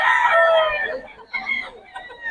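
A stag rooster crows loudly and close at a chicken market in Bocaue, the call trailing into shorter clucking bursts.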